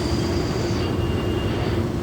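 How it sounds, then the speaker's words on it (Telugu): A metro train passes at night in Hyderabad, heard from a moving TGSRTC bus, its steady rumble of rolling wheels and carriages filling the clip with a faint high whine above it and no talk. "మెట్రో వెళ్తుంది చూడండి."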